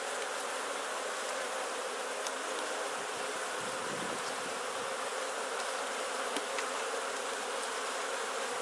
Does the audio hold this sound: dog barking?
no